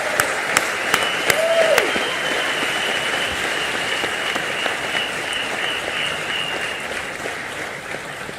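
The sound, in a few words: audience applause for Jio employees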